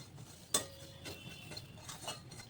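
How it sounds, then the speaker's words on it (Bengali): A utensil stirs sugar, tea leaves, whole cardamom and crushed ginger in a metal karai: one sharp clink, then a few light scrapes and taps, close and quiet, with no talking. "এখন এটাকে আমি নাড়বো ভালো"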